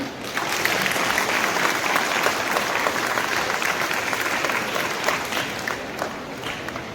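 An audience at a college society function in Dharamshala claps in a loud, sustained round of applause, dense crowd clapping holding steady for several seconds before tapering slightly.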